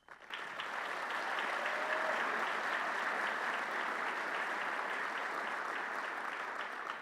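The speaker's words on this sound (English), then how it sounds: "it's wonderful when you can just say Mike Duggan and the applause starts, isn't it?" An audience in a large hall applauds Detroit Mayor Mike Duggan at a county State of the County address, with dense, sustained clapping that rises quickly, holds steady and begins to taper near the end.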